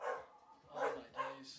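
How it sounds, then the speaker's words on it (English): Dogs barking in a quick series of three or so short, faint barks from a nearby room, with a person muttering briefly in between. "Sorry about the dogs, guys."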